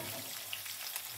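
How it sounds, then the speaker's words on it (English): Onions frying in a pot while being left to brown for a zucchini flower stew, a soft, steady sizzle with faint crackles, quiet and unbroken throughout. "I will be leaving these onions to get brown."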